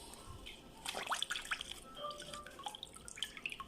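Water dripping and trickling as fish are washed with vinegar, a faint close patter of irregular drops and small splashes.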